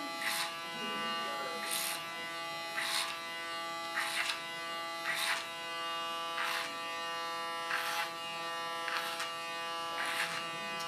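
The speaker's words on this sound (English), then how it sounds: "Start with a clipper cut, not ultra short" Electric hair clippers buzz steadily while trimming a woman's hair for a mohawk cut, a constant close motor hum with brief louder bursts as the blades bite through hair at regular intervals.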